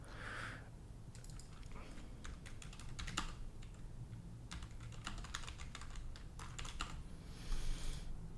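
Quick bursts of typing on a computer keyboard, close-up clicking clusters separated by short pauses, with faint room background.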